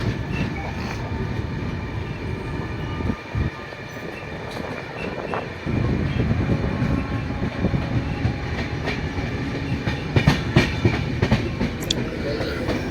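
The Paharia Express from Digha to NJP runs on after pulling out of Azimganj station, with a steady loud rumble and wheel clatter filling the whole stretch and a few sharper rail knocks near the end. No one speaks.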